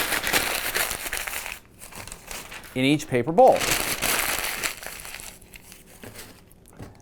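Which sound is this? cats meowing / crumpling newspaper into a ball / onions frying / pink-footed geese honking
crumpling newspaper into a ball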